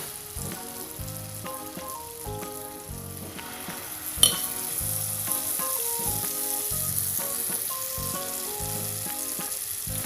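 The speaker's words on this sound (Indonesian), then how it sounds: "Sekarang proses memasak ya ibu-ibu. Proses menggoreng ya." Pieces of fermented cassava (tape singkong) fry in hot oil, giving a steady close sizzle that grows louder partway through after a sharp clatter, with soft stirring knocks and no talking.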